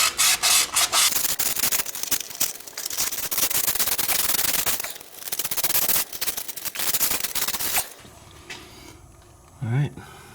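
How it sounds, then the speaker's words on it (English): Hand sanding with 180 grit sandpaper on a 2000 Toyota Sienna CV axle part produces loud, rapid back-and-forth scratchy rubbing strokes, which stop near the end before a brief voice. "This is 180 grit."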